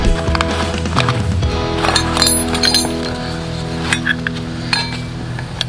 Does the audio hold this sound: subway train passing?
no